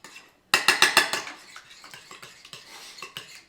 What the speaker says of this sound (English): Okay, let's give that a little stir.